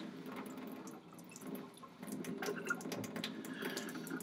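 Water rinses a slide during Gram staining of bacteria in a lab, a soft, close trickle and splash of running water with a light dripping texture, steady and quiet throughout.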